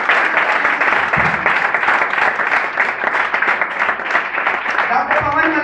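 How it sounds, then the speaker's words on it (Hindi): Audience applause in a lecture hall during a business presentation, a dense continuous clatter of many hands that stays loud and steady throughout, with voices mixed in. "प्लीज जबरदस्त ताली होनी चाहिए सर प्लीज।"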